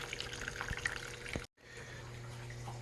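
Water drains from a Lifeplus portable washing machine, a steady rushing, splashing flow that breaks off abruptly for a moment, then resumes as a continuous gurgle.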